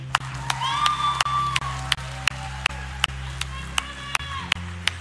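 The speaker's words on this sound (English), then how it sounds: "Can you hear him cheering for you" Church congregation cheering, whooping and clapping for a baptism in the water, loud crowd noise with sharp rhythmic claps cutting through and voices shouting over it.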